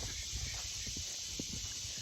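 Horses walk on the way to new grass, their hooves clopping in a soft, uneven series of muffled knocks over steady background noise, with no talk.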